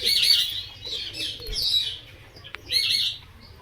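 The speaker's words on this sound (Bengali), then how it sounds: "পায়রার সাথে আছে কাকাতুয়া" Pigeons and cockatoos call in bursts of high chirps and squawks, fairly close and loud, with brief pauses and a soft flutter in between.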